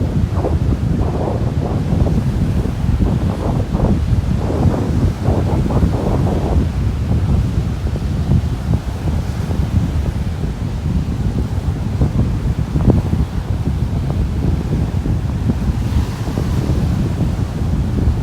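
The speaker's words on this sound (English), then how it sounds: "That wind has doubled in strength since I walked out here." Strong gusty wind buffets the microphone on a beach in North Naples, Florida, a loud steady roar with surf washing underneath and no talking.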